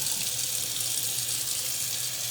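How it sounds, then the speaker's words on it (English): Tap water runs steadily into a sink while dye is rinsed out of a doll wig, a continuous close hiss and splash with no voices. "it says to rinse until the water runs clear"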